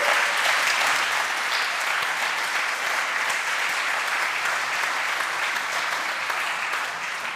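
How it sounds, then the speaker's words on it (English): A large conference audience applauds, a loud, dense wash of clapping that holds steady for over seven seconds and only starts to thin at the very end. "Please give a hand so that we can hear."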